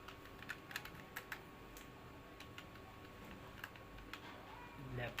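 Computer keyboard keys clack in short bursts while text is typed into an Excel spreadsheet, quiet and close, over a steady low hum.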